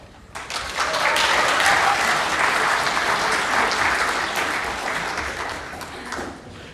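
At the Pasifika Fusion 2023 performance event, an audience claps and cheers in a sustained burst of applause that swells quickly, holds, then slowly tapers off.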